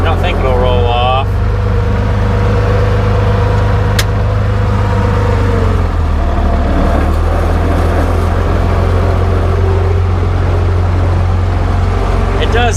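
An IH 1466 tractor fitted with dual wheels, hauling bales, drives off with a steady, loud low engine drone that holds throughout while people talk over it.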